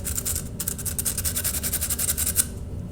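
Sandpaper rubbed lightly back and forth along the sharp edge of sheet metal during deburring, a rapid run of about a dozen close, gritty rasping strokes in steady rhythm, with no talk.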